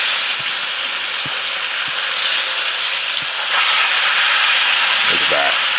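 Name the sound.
flank steak sizzling in a pan after flipping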